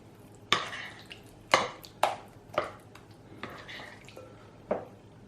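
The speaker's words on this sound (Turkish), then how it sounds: "Şöyle biraz hepsini karıştırıyorum." Cookie dough ingredients mixed in a bowl, producing a series of sharp clinking taps of a utensil against the bowl at irregular intervals, close and fairly distinct, with soft scraping in between.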